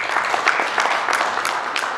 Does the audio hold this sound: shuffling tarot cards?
no